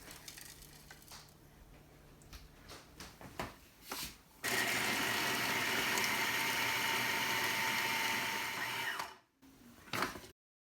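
A kitchen blender grinds garlic, ginger and chickpeas coarsely for a meatball curry, a loud steady whirring roar of about five seconds after a few short pulses, then cutting off.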